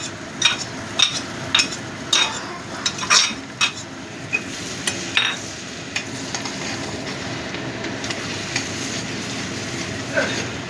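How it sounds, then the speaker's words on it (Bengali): Chopped garlic fries in butter for butter garlic chicken, a steady sizzle under repeated clinks and scrapes of a spoon stirring against the pan, close up. "এবার এই বাটারের মধ্যে দিয়ে দিচ্ছি রসুন কুচি।"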